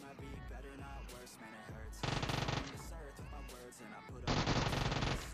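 Rapid bursts of automatic gunfire in the mobile battle royale game PUBG Mobile, loud and close, coming in dense repeated volleys over an ongoing game soundtrack.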